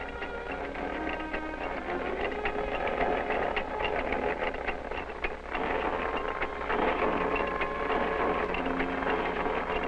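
Machinery in a hosiery mill knitting nylon hose makes a dense, steady mechanical clatter and whir that runs loud and continuous throughout, with no voices.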